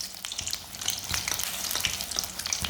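Egg kebabs fry steadily in hot oil, with a continuous close crackling sizzle and scattered sharper pops throughout, no voices.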